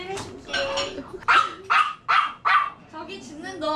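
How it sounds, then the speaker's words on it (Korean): Several sharp dog barks burst out in a quick series at close range, mixed with excited dog noises, while someone talks over them; multiple dogs are present indoors. "저기 짖는 너 아이 조용히 해줄래?"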